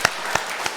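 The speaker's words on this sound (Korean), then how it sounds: "와, 박수!" Church congregation clapping during a Korean Sunday worship service, a short burst of many hands with three distinct louder claps standing out at regular intervals over the general patter.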